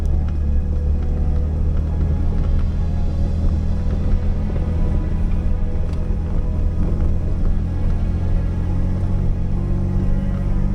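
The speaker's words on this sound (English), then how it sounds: "Looks like we found some traffic up here." Road traffic heard from an elevated wooded spot, a constant low rumble of engines and tyres with no distinct pass-bys.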